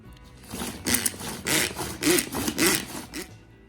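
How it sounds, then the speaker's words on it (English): A small kitchen chopper dicing canned tomatoes, with a run of loud, rough grinding bursts pulsing in quick succession, close up and with no talk. "So I'm gonna run my diced tomatoes through this handy dandy little lawnmower machine and make them extra super small."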